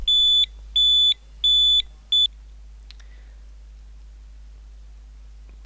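An airsoft prop bomb gives four sharp electronic beeps, the last one shorter, in a steady on-off rhythm, then stops and leaves near silence.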